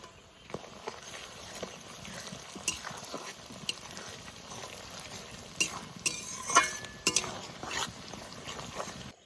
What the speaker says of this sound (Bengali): মাছের তেল ভাজা হয়ে গেছে, সুন্দর একটা সেন্ট বেরিয়েছে।